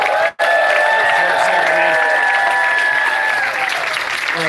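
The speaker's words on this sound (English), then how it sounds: "Can we get a big round of applause for Emily for like managing this entire thing?" Audience applause at the closing of a mushroom festival, MycoFest 2024: a loud, dense wash of clapping with scattered cheers and whoops carrying on steadily for several seconds.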